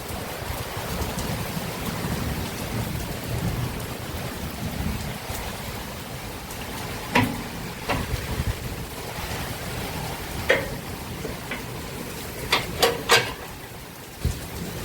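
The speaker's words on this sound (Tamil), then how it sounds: "சரியான மழை வித் காத்து." Steady heavy rain from a summer thunderstorm in Bangalore hisses continuously, with gusty low rumble and scattered sharper drips or splashes standing out toward the end.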